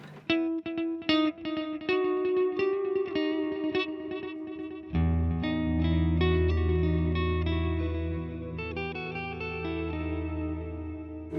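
Guitar run through a delay pedal with feedback raised, played alone: plucked notes repeat in dense echoing trails that build into a thick, sustained wash, swelling louder after a few seconds and smearing almost like reverb.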